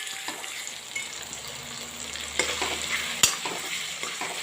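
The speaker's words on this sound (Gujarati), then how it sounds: "ઘીના અંદર સરસ મજાના આપણા શાકભાજી શેકાય છે" Vegetables sizzle and fry in ghee with salt for palak rice, a steady close frying hiss with a few louder stirring clinks and scrapes, no talking.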